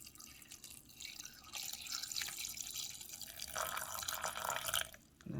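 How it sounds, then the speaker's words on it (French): Water poured from a tap into a cooking pot for beef kidney spaghetti, a steady close splashing and trickling stream that builds and brightens toward the end before cutting off. "Et là, mettre de l'eau."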